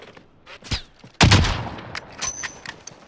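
Gunfire in Call of Duty: Modern Warfare, with scattered sharp shots, then one loud close blast followed by a ragged burst of rapid fire that trails into sporadic cracks.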